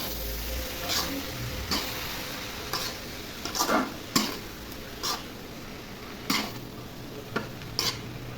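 Shredded cabbage stir-fry with turmeric and salt being stirred in a pan: soft steady sizzling under repeated sharp scrapes and clinks of a utensil against the pan, at an irregular rhythm, close by.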